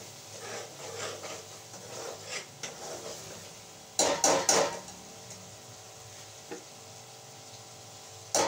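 Food roasts in a pan with soft, uneven rubbing and scraping from stirring, and a few louder clatters of utensil on pan partway through.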